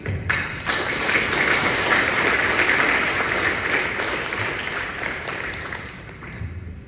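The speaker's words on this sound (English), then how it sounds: "Please join me in another round of applause for those that are present." Sustained applause from a large crowd at a dinner dance honoring veterans, a dense even wash of clapping that holds steady, then tapers near the end.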